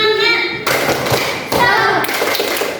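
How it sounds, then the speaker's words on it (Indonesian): Students in a classroom perform a rhythmic spirit clap, a few sharp, loud group claps and thumps in a patterned beat, mixed with children's voices chanting along at close range. "Oke, tepuk semangat."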